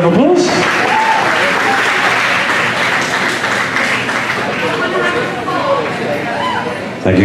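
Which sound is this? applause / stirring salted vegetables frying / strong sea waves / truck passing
applause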